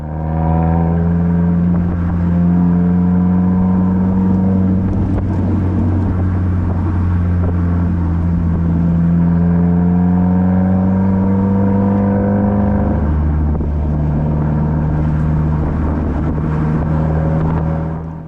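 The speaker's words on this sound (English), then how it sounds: "At the end of Red Bank Road, I merge left onto Lowery Road and drive more directly south towards Paskenta." A car drives along a rural backroad in Tehama County, its engine humming steadily and close with shifting tonal pitch as it accelerates, a brief dip around mid-clip, then continues droning.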